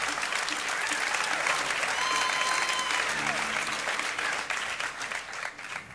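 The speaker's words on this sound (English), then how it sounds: "Another big round of applause." A concert audience gives a big round of applause, dense sustained clapping and cheering from a large crowd that thins slightly toward the end.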